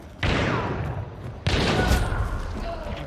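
Two heavy gunshots in a first-person shooter game, each a sudden loud blast with a long noisy tail, about a second and a quarter apart, with a voice talking beneath.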